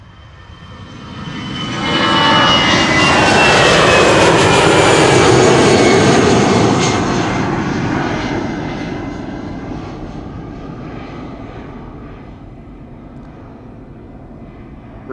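An Austrian Airlines jet in flag livery takes off from Amsterdam's Polderbaan runway, its engines surging into a loud roar with a rising whine, then fading slowly into a distant rumble.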